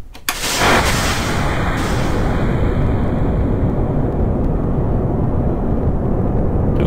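A rocket engine in Kerbal Space Program roars as a steady, loud, broadband rumble that starts abruptly and holds unchanged for several seconds, with no voices.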